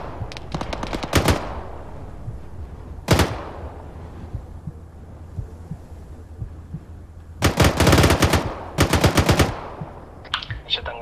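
Machine gun fire in the video game Arma 3 during a co-op mission at Firuzabad: loud rapid bursts, a quick opening volley, a single heavy shot, then two longer sustained bursts, close and without talk.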